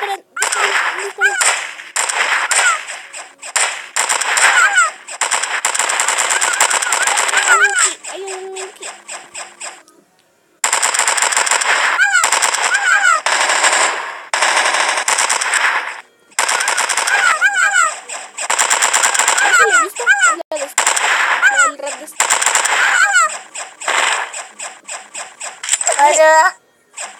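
Rapid machine gun fire in a video game crackles in long, loud bursts with brief gaps, mixed with sharp whip-like cracks, while excited voices shout over it.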